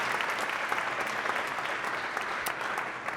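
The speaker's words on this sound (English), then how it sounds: "Applause, applause." A studio audience claps for Rudy during a televised discussion, steady moderate applause throughout, evenly textured and slightly distant.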